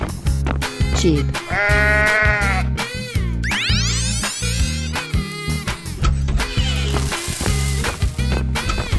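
A sheep bleats in a 3D animal slide video game, loud and close, over steady background music and playful game sound effects.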